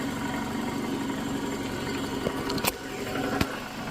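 A 2009 Toyota Camry engine idles steadily with its grooved drive belt spinning, a close continuous mechanical drone broken by a few sharp metallic clicks near the end, with no talk.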